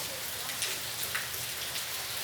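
Steady rain falls on a morning, a dense, even hiss of drops on a surface with faint scattered patters, no voices over it.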